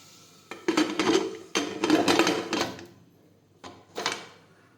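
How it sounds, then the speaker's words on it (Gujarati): A metal pressure cooker lid is fitted and closed over a pointed gourd curry, giving a few close, sharp metallic clanks and rattles in separate bursts with short pauses between. "હવે આપણે કુકરનું ઢાંકણ છે તે બંધ કરી દઈશું."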